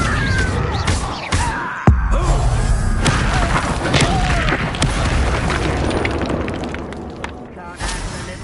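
Booming magical blasts and crashing impacts from spells cast in a Harry Potter video game, several loud thuds and explosions over busy game effects, with a voice calling out spells.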